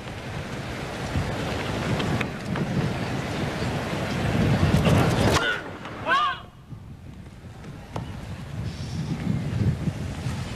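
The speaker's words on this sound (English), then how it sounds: "Very windy now." Gusting wind roars across the microphone in surges at a 1981 US Open tennis semi-final, loud and rough, with a brief quieter lull midway and faint distant sounds.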